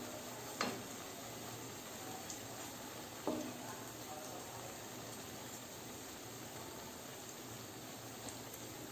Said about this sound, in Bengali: তো এইভাবে এগুলো ভেজে নিতে হবে।